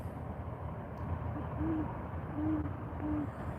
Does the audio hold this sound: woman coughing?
no